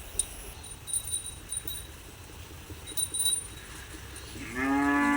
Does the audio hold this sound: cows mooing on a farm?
yes